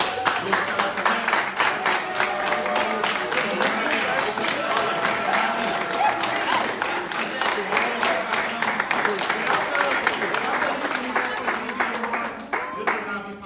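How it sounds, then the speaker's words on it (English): Audience at a performance giving steady, dense applause, many hands clapping continuously for over ten seconds before tapering, with voices faintly mixed in. "we can give y'all a round of applause"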